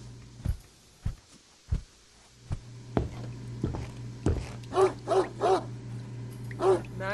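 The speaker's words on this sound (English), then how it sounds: "Max is barking!" A dog in a video game barks several times in short, separate bursts, then gives a few higher whining yelps over a low steady hum.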